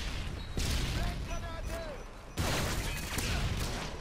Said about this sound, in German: da ballert unser Geschütz ganz schön gut rum